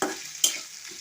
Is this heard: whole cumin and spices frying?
yes